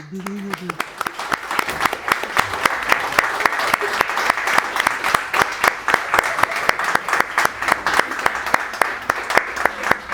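At a book presentation, the audience breaks into loud applause with sharp, evenly spaced claps forming a strong rhythmic beat, and a voice speaks briefly at the start.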